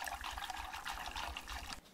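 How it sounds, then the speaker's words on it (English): Chilled water poured into a trifle mixture, a faint, steady splashing trickle that runs for about two seconds before tapering off, with no talking. "add in the 2 cups of chilled water"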